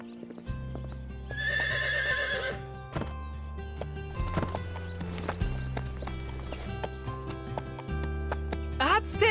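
Cartoon wild horses neigh loudly and clop their hooves over background music, with a high whinny early on and hoofbeats and voices running throughout.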